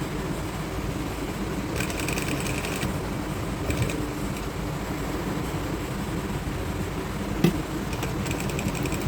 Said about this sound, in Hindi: इस इलास्टिक पर हमने अब इसी तरह यहाँ से यहाँ सिलाई लगाते हुए इसे पक्का कर लेना है